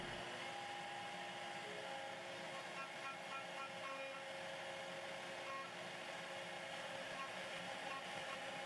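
A CNC router makes a surfacing pass across an MDF spoilboard, giving a steady, loud whine and broadband roar of spindle and cutting with faint tonal lines, continuous throughout.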